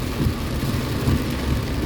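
Heavy rain pours steadily over a car driving on a flooded road, a dense low rumbling wash of water and road noise with no voices.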